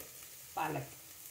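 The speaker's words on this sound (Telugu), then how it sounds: "2 సరిపోయిన ఆనియన్స్ని శుభ్రంగా దోరగా వేయించుకోవాలి" Onions for a spinach dish hit a hot pan with a sudden soft sizzle that settles into a low, steady frying hiss, close and fairly quiet.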